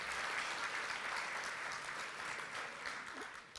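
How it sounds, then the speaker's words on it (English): Applause from an audience at a civic celebration event in Irvine: a dense, fairly faint wash of clapping that holds steady and then slowly tapers. "I think it deserves some applause."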